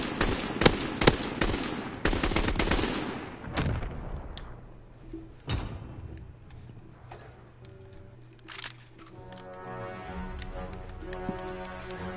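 Machine gun fire in the video game Call of Duty WWII, sharp rapid bursts up close at the start, then scattered single cracks and more distant shots further on, with mechanical game sounds in the background.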